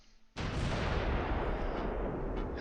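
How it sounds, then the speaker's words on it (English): Mortar fire in the Close Combat III wargame: a sudden loud blast at about a third of a second, followed by a sustained, dense rumble of explosions that carries on to the end. "And their mortars are going after the AT guns."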